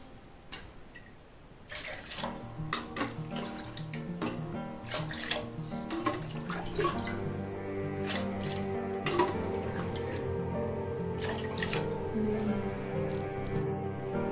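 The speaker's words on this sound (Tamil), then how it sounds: "இப்போ இந்த கப்பால் 8 கப்பு தண்ணி நம்ம சேர்த்துக்கலாம்" Water runs and splashes steadily into a wide vessel, a continuous pouring sound that starts after a moment and carries on throughout.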